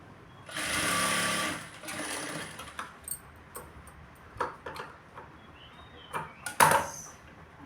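Sewing machine stitching the lining of a blouse, running in one long steady burst near the start and then a few short runs, followed by scattered clicks and handling noises.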